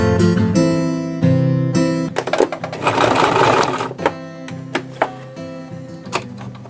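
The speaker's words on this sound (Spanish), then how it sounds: "voy a ir cosiendo despacito para que veáis cómo va" A sewing machine stitches slowly through paper for scrapbooking, a steady mechanical whirr running in short bursts with pauses and light clicks between runs, close and loud, no voices.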